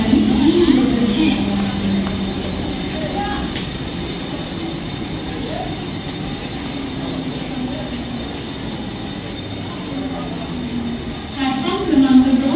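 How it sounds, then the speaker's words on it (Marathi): A Mumbai local train, the 7:01 Delhi local bound for Chhatrapati Shivaji Maharaj Terminus, pulls into platform 2 of a station in the evening with a loud steady rumble and wheel noise, while a platform announcement plays over it. "प्लेटफॉर्म क्रमांक 2 वर आलेली लोकल 7:01 मुंबई छत्रपती शिवाजी महाराज टर्मिनस ला जाणारी दिल्ली लोकल"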